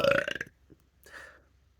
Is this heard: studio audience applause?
no